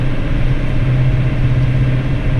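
Tractor pulling a Claas Quantum wagon that picks up a silage swath at about 8 kilometers an hour: a loud, steady engine drone with a constant low hum, heard close from the cab with no voices.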